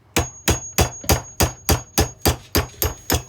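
A small hammer tapping a punch to drive out a pin on a DPMS Panther AR-15 rifle: eleven evenly spaced, sharp metallic knocks, about three per second, close and loud with no talking.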